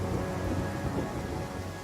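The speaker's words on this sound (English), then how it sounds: "it's just a bit of a rain" Steady rain with rolling thunder in the fantasy role-playing game Pathfinder: Kingmaker, a dense, continuous downpour hiss under low rumbling that fills the whole stretch without pause.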